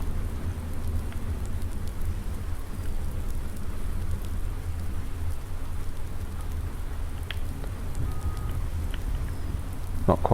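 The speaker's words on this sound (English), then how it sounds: "This rain really looks like it's set in." Steady rain falls in the video game Farming Simulator 19, a constant soft hiss with a low rumbling bed throughout, with a few faint scattered ticks and no talking.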